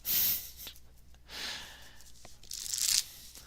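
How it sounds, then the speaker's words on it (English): A magician shuffles a deck of playing cards, with three crisp riffle bursts spaced about a second apart, each a short rushing flutter up close, separated by quieter handling. "here, enjoy some shuffling for fun."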